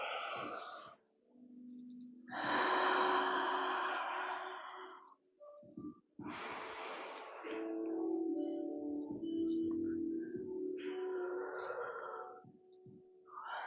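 Deep, slow breathing during a lower-body Pilates session, long audible inhales and exhales alternating in a relaxed rhythm, close and fairly loud with brief pauses between breaths.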